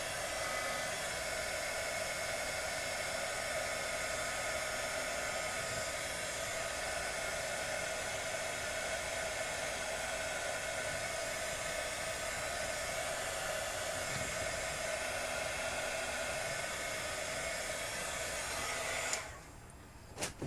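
A hair dryer blows a steady, loud, unbroken rush of air to dry airbrushed craft paint on a tumbler, cutting off near the end.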